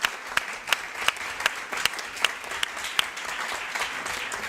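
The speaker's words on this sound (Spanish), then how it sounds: "Un aplauso a los ponentes" A panel audience gives a brief, moderate round of clapping after the afternoon's panel, with individual sharp claps standing out. The applause fades slightly toward the end.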